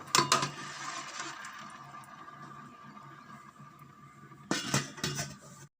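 Rice gets stirred in a metal pot, the spoon scraping and clinking, and then a lid clanks down over it in a couple of sharp metallic knocks near the end, all close and fairly quiet.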